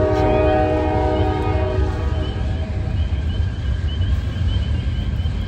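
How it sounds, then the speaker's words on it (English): A passing train sounds its horn loudly near a deep creek at night in the Tyler Flats, the harmonic blast strongest at the start and fading to a distant wail over a steady low rail rumble. "And we got that train noise"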